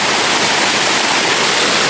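Seawater rushes in a loud, constant broadband wash, close and steady throughout, with no voices.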